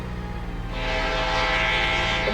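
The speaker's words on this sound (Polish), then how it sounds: "Czy tu właśnie jedzie pociąg?" A train passing in the video game Radical Relocation, a loud continuous rumble that swells into a bright rushing roar and stays up to the end, with no talk.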